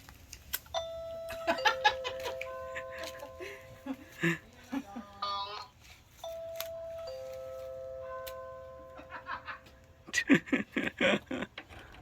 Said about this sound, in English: Are you pushing my doorbell?